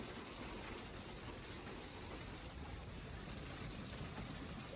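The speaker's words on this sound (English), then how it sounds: "She didn't like the hail or the lightning." Rain and hail drumming steadily on the roof of an RV during a cold autumn storm, a dense, continuous patter that stays fairly soft and even throughout.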